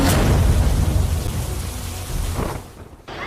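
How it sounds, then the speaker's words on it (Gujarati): Heavy, unbroken rainfall pours down over Rajkot in Gujarat with a loud steady roar, deep thunder rumbling underneath, and the wash eases slightly near the end. "વહેલી સવારના 4 વાગ્યાથી અવિરત વરસાદ વરસી રહ્યો છે"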